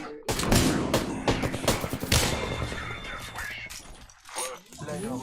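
Dense bursts of automatic gunfire and impacts from a round of the Apex Legends battle royale game crowd together in a loud clatter, with a game voice speaking over them.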